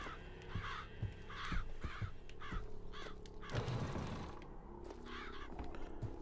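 Crows caw repeatedly in the video game Bioshock Infinite, harsh calls in uneven groups over a busy game soundscape with thuds and a brief whoosh midway.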